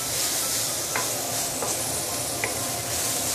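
Roast pork stir-fry in a wok with Shaoxing wine just added, a dense steady sizzle and hiss filling the clip, broken by a few faint utensil taps against the pan.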